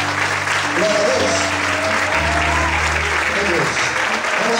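Church congregation applauding together at a worship service, steady dense clapping throughout, with some voices and musical tones underneath.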